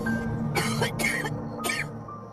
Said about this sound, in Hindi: बेडरूम के अंदर जाते ही इसका दोस्त ना खांसते हुए बाहर निकलता है।